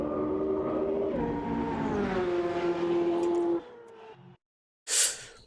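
Supercar engine in the Automobilista 2 racing game heard from outside, a loud sustained rising drone for about three and a half seconds that fades off, followed by a brief burst of noise near the end.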